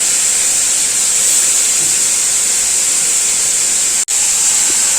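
Washed prawns frying for a prawn fry in a hot pan, a steady loud bright hiss and sizzle that runs continuously, broken by one brief dropout near the end.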